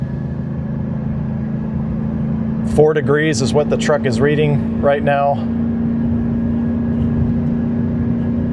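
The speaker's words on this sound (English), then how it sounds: "This is just the truck, just the engine doing it." A gas Chevrolet 2500HD pickup (L8T engine) towing a 12,000 lb fifth-wheel trailer engine-brakes in a steady low drone heard from the cab, with someone talking briefly over it.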